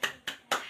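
A class of children in a school classroom clapping the 'tepuk semangat' rhythm: three sharp, close claps evenly spaced in under a second, with no voices.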